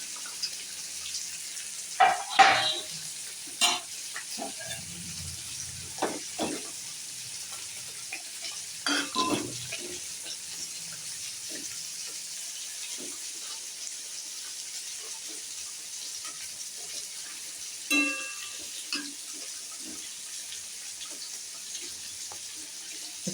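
Small fish simmer in a potato curry in a pan, giving a soft, steady sizzle and bubbling with a few scattered clinks and stirring knocks. No one speaks.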